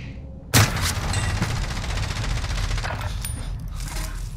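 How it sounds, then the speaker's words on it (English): Rapid gunfire in a first-person shooter video game, a loud burst opening a sustained stream of closely spaced automatic shots that continues throughout. "They're trying to shoot at us."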